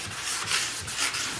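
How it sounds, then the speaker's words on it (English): Sandpaper lightly scuffing the glossy finish of an office desk, a steady close rubbing hiss in short back-and-forth strokes with slight swells. "Just wipe it, almost like you're cleaning it, with a piece of sandpaper."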